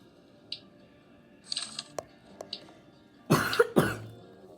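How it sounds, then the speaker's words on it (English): A person coughs a few times, with one faint early cough, then a short cluster and two loud close coughs near the end, against a quiet background. "Sorry if I'm coughing."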